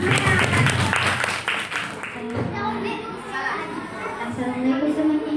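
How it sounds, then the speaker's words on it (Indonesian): Classmates clap for a student group after its presentation, a dense burst of applause mixed with chatter that thins into voices and scattered claps. "boleh tepuk tangan untuk kelompoknya"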